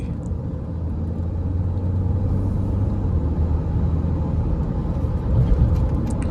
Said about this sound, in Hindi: स्पोर्ट्स तो उड़ रही है गाड़ी।